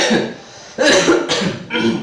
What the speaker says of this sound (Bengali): আমার কাশি হয়ে গেছে